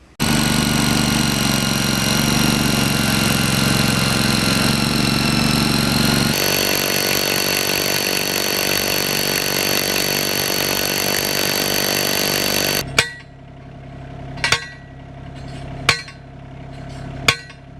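A loud engine-driven drill roars steadily for a long stretch while boring holes for deer fence posts in a garden, then stops, followed by four sharp, spaced thuds.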